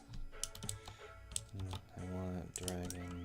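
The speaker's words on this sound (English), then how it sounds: "You're gonna hear a lot of keyboard clacking just due to the nature of me playing RuneScape" A computer keyboard clacks steadily as someone plays RuneScape. Rapid, close key presses are mixed with game sounds and tonal background music.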